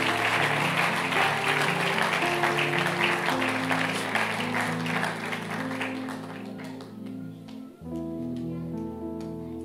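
A church congregation claps steadily, loud and sustained at first, then thinning into scattered claps as music continues underneath.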